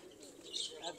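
Pigeons coo and call softly in short, warbling bursts at a loft where young champion birds are kept, faint and somewhat distant, with faint voices in the background.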